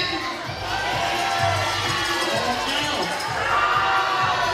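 A large arena crowd at a professional pickleball match reacts to a disputed line call with loud, sustained murmuring, shouts and scattered cheers and whoops, a continuous roar filling the whole moment.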